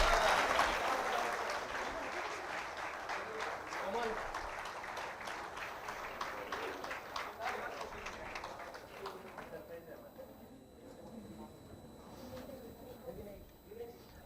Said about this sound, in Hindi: इनके लिए तालियां रुकनी नहीं चाहिए।